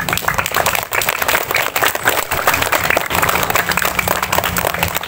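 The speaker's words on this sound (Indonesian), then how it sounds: "Kita berikan dulu tepuk tangan buat para petugas kita." Applause for the officers of a Monday school flag ceremony, a large group clapping loudly and unevenly in a dense, continuous patter from start to finish.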